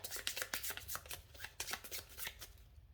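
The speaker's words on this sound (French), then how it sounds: "je vais l'extraire, je vais ensuite mélanger les autres cartes," A deck of Mosaic game cards being shuffled by hand, a steady run of crisp riffling and rustling flicks up close for about three seconds, with no voices.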